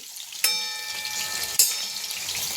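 Chicken lollipops deep frying in oil over a low flame, a soft continuous bubbling sizzle close by with two sharp clinks of a utensil against the pan.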